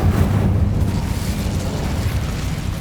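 Incendio fire spell cast in the Hogwarts Legacy video game: a dense, roaring burst of flame with a deep rumbling body, loud and steady for about three seconds with no talk over it.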